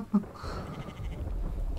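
A goat bleats once, short and close, in a survival video game, followed by low rumbling game ambience with no talk.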